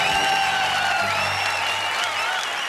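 An audience at a televised comedy show applauds steadily, a sustained wash of clapping with a low musical tone running underneath.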